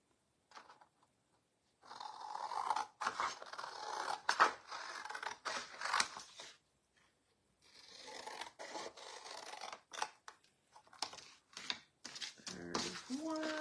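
Paper scissors snip and rasp through paper while cutting out decoupage pieces, in quiet bursts of crisp cuts with short pauses between them and brief faint talking.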